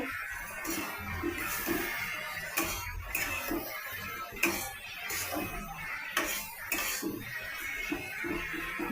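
Okra fry being stirred in a pan with a little sugar added: repeated scraping and clinking of a utensil against the pan, moderately close, in an irregular rhythm over a continuous low background hum.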